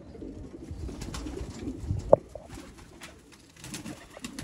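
A pigeon of a flying breed coos softly nearby. The low, murmuring calls repeat over a quiet background, with one sharp click standing out.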